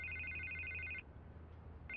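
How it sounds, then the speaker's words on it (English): A telephone rings with a bright electronic trill, one sustained burst followed by a pause and the start of the next ring, fairly quiet and alone. "I can't get the phone to stop ringing."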